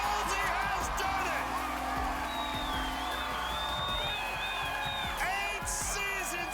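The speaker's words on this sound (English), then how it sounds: "The crowd on their feet." Arena crowd at the American Ninja Warrior finals in Las Vegas roars and whoops steadily as a competitor nears the buzzer, a dense wall of cheering with scattered shrill whistles rising above it.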